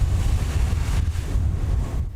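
Strong wind gusts roar across the microphone at a house fire scene on Grand Street in Hartford, a loud, steady rumbling buffet that dips briefly midway.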